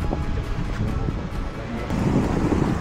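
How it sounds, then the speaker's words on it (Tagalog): Strong wind buffets the microphone during a 600 km Audax bike ride from Subic to Tarlac, a steady, rough low roar that swells louder toward the end. "Lakas ng hangin."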